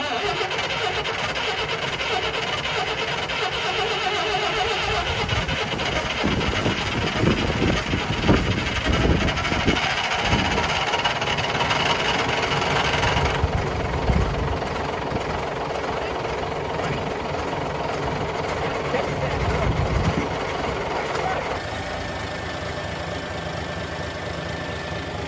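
An old Fiat Allis bulldozer, left to rot for ten years, cranking and running roughly, with a loud, continuous diesel clatter and rumble that surges and shifts throughout, alone without talk.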